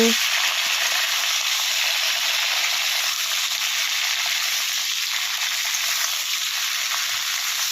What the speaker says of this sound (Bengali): আর এক চুলাতে আলু ভাজাটা বসিয়ে দেওয়া হবে